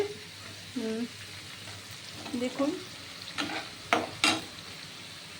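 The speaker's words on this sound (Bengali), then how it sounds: "পেঁয়াজ ছেড়ে দিলাম যেহেতু সমস্ত সবজি সুন্দর করে ভাজা ভাজা হবে" Onions and chopped vegetables fry in a pan on a gas stove for a prawn and pointed gourd curry. A steady sizzle is broken by several sharp stirring scrapes, and someone speaks briefly at the start.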